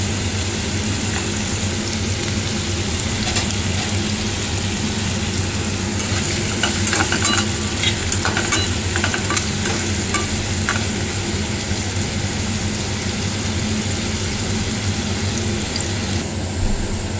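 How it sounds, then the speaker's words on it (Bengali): Carrots for fried rice sizzle in oil in a pan, a steady close crackle that runs throughout, with occasional scraping as they are stirred and no voices. "গাজরটা ভাজা হয়ে গেছে"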